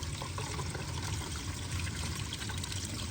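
Water runs steadily from a pipe jutting out of a mountainside, a constant close splashing trickle lasting throughout with no voices over it.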